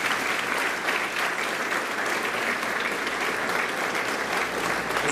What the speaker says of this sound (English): I'm going to ask you to applaud again